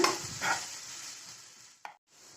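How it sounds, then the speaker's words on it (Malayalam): An egg and vegetable mix is stirred in a pan over a low flame, with a few soft scraping strokes over a faint sizzle and a short quiet gap near the end. "നമുക്ക് ഒന്ന് മിക്സ് ചെയ്ത് കൊടുക്കാം"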